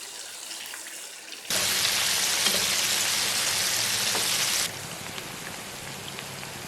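Flour-coated chicken pieces drop into hot oil and set off a loud, steady crackling sizzle that runs for about three seconds, then drops back to a softer frying hiss.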